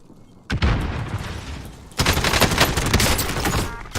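Rapid gunfire from a sniper rifle in Call of Duty Warzone, a sharp burst of loud shots at the start and then a second dense volley of booming fire that continues to the end.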